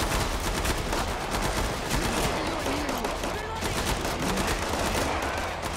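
Rapid gunfire fills a Killing Floor 2 firefight, dense bursts and volleys running continuously and loud across the whole stretch, with background game noise underneath.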